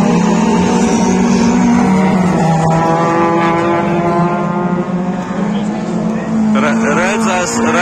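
Rallycross race cars revving at the start line of a Smiltene round, a false start, with loud sustained engine drone and shifting harmonics close by; a voice talks over it.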